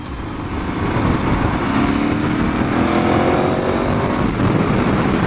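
A KTM 1290 Super Adventure R motorcycle is ridden, its engine a loud, sustained drone with rising pitch under heavy wind rush and no talking.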